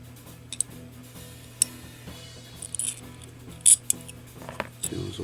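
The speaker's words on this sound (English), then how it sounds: "I'm going to start reassembling this bridge." Metal bridge hardware on a Peavey bass guitar is put back together with small scattered clicks and ticks from parts and screws. A faint steady hum runs underneath, and the sounds are close and quiet.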